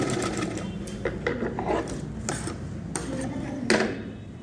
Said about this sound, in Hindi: अब हम फिर से जैसे हमने वहाँ पे सिलाई लगाई थी इसी तरीके से हम यहाँ पर भी निशान सिलाई लगाते हुए आ जाएंगे।